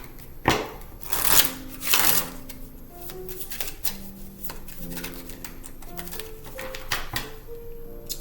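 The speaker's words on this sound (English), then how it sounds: "These cards are trying to slide away from me." Tarot cards slide and shuffle in quick papery bursts, then settle into soft, scattered flicks and taps close to the ear.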